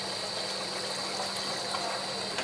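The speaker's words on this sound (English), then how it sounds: "You take the thing and put maybe 3/4 of water for cooking the rice." Water is poured into a cooking pot for making rice, a steady close rush of flowing water that keeps going for the whole short stretch.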